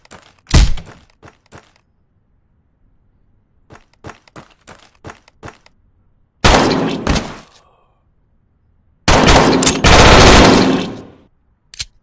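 Gunfire in the VR shooter Tactical Assault VR: scattered single shots, then two dense bursts as a magazine is emptied, loud and sharp between short silent gaps.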